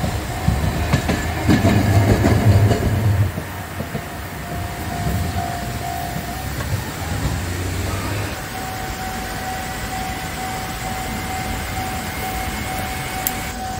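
A Nanohana train from Usuki rumbles past at the Nanko railway crossing in Kagoshima, Japan, with a steady roar and rhythmic clatter, while a crossing bell tone rings continuously in the background.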